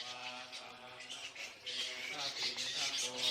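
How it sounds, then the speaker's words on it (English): Flying fox bats roosting in trees at a Buddhist temple in Thailand, squabbling in a continuous chatter of shrill squeaks and chirps that rises louder toward the end. "During the day, they hang out by roosting in trees, wings wrapped around their body, squabbling noisily"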